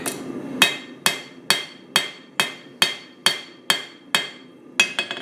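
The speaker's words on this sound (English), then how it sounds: "And pound that edge down a little like that to sharpen it." A hammer pounds the metal edge of a homemade garden tool to flatten and sharpen it, about a dozen sharp ringing blows in a steady rhythm, close and alone, quickening into a quick double strike at the end.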